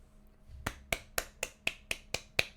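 Eight sharp, evenly spaced claps sound in a slow, deliberate golf-clap rhythm, each one crisp and isolated against near silence after a quiet start.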